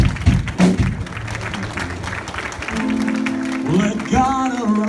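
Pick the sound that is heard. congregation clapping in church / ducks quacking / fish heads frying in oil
congregation clapping in church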